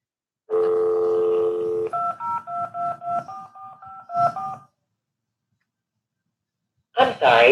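Touch-tone keypad beeps sound over a phone on speaker, a long dial tone giving way to a quick run of about nine two-tone presses, then silence and a burst of voice at the end.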